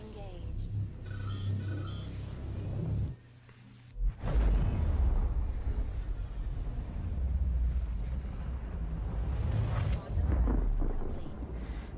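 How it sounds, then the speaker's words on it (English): Mustang Alpha spacecraft in a space-sim game spooling into quantum travel: a steady low roar breaks off briefly near the three-second mark, then returns as a loud, sustained rumbling rush with a voice talking over it. "Quantum travel engaged."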